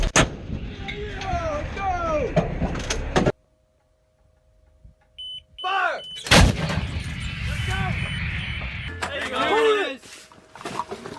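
An M777A2 howitzer fires during a military live-fire exercise, each deafening boom punching out near and sharp, with crew members shouting commands between the shots.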